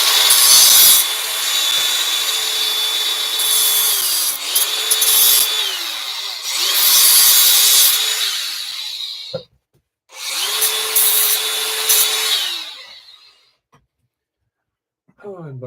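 A tool cuts and cleans up damaged bolt threads on a lithium battery build, making loud, close, grinding whirring runs that rise and fall in several long passes with short pauses between.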